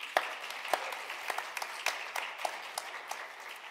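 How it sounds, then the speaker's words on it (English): An audience at an awards concert applauds, scattered claps rising over a steady wash of clapping, moderately close and without talk. "In addition, a round of applause for Scott."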